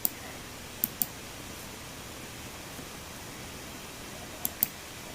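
A few sharp, faint computer mouse clicks sound in pairs over a quiet hiss, with long gaps between them.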